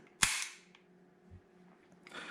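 A Beretta 92G 9mm pistol being cleared, its slide worked with a sharp, loud metallic clack followed by smaller mechanical clicks and a second rattle of the action near the end.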